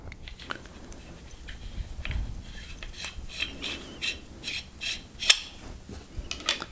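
Metal parts of a Saberforge ASP lightsaber hilt, powder-coated, being screwed and fitted back together: close, scraping metal rasps and small clinks in an uneven rhythm, with a couple of sharper knocks.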